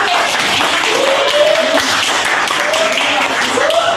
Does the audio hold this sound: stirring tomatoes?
no